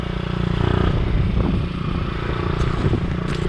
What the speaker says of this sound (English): Little cruise around, get the 50 all warmed up.